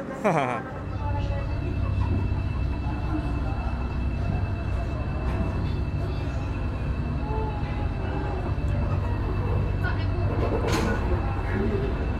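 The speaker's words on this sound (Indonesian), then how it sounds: "Matarmaja sudah berangkat" Matarmaja passenger train pulling out of an Indonesian station, a steady low rumble of rolling wagons with faint squeals and clanks, continuous and fairly loud, with voices in the background.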